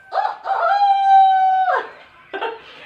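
A voice imitates a rooster crowing, with a couple of short rising calls leading into one long sustained crow, then a brief final syllable, loud and close with no other sound.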